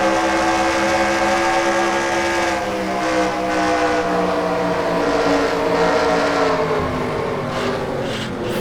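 Jeff Gordon's DuPont Flames race car in NASCAR Racing 2003, on track at Atlanta during the 2001 season: a loud onboard engine drone holds steady at high revs, its pitch shifting slightly, with no talking.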